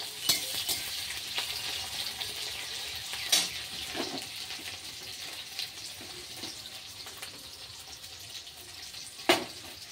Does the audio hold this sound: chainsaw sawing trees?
no